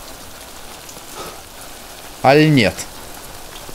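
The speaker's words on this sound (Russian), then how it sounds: "Что это за звуки? Это дождь." Rain falling in the video game Death Stranding, a soft steady hiss of drops across the whole stretch, with a brief spoken phrase over it.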